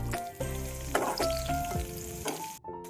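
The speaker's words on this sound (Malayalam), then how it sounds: "അതേപോലെ പച്ചമുളകും കറിവേപ്പിലയും കൂടെ ഇട്ട് അതും കൂടി ഒന്ന് ഫ്രൈ ചെയ്തെടുക്കാം കേട്ടോ." Green chillies and curry leaves frying in hot oil for a Kerala-style inji curry, a steady close sizzle and crackle with stirring scrapes running throughout and a brief drop near the end.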